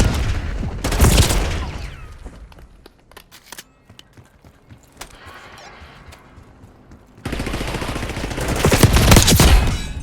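A Semtex grenade blast and bursts of gunfire in Call of Duty: Black Ops 6: a loud crack near the start, a quieter lull with faint clicks, then a sustained burst of heavy firing to the end.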